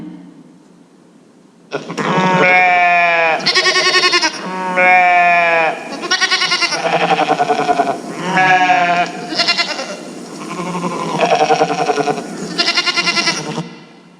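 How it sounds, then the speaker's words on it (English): Several loud, wavering bleats follow one another, sheep calling close by in a sustained series with short pauses between. "Sheep."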